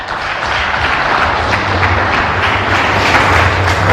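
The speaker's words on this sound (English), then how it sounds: "Another beautiful round of applause for Reverend Dr. Kobia." An audience at a Karatina University national cohesion week event applauds after a speech, a steady, loud, continuous patter of many hands clapping that fills the whole stretch.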